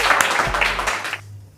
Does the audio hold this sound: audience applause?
yes